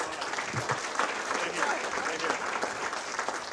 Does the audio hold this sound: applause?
yes